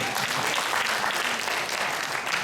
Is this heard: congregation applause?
yes